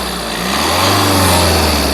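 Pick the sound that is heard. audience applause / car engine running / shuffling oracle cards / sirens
car engine running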